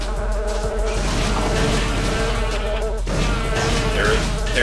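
A robotic mosquito enemy buzzes steadily and loudly in the marsh level of the video game Daikatana, a continuous droning whine mixed with game effects.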